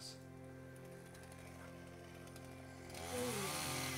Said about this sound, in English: That looks like an old chainsaw there.